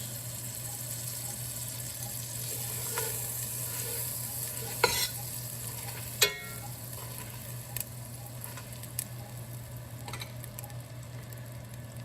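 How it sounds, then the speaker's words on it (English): A butter and flour roux cooks in a pot for shrimp étouffée, a quiet, even low sizzle with a steady hum and a few faint scrapes of stirring scattered through. "Then we'll mix it and probably let the roux cook for about 5 to 7 minutes."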